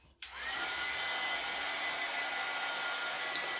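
A hair dryer switches on with a short click and then blows in a steady, continuous whoosh while drying a waxed craft heart.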